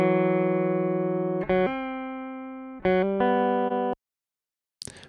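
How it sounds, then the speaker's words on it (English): A clean, unprocessed direct-input electric guitar plays a few sustained chords, each ringing bright and dry before the next change, then cuts to silence with a brief noise at the end. "here's the DI sound"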